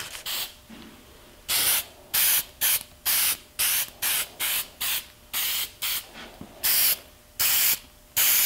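Repeated short bursts of lacquer spray hissing onto a wooden guitar hanger, about fourteen quick sprays in a steady rhythm, close and fairly loud, with quiet pauses between.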